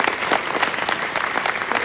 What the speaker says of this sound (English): So give those actors a round of applause.